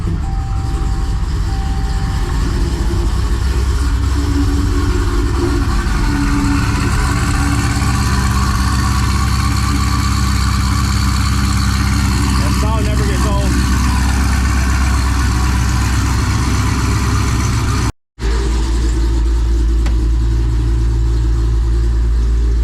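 A Jeep Trackhawk Redeye, tuned to 797 hp, idles with a loud, steady, deep rumble that holds close and continuous for the whole stretch, broken only by one very brief dropout.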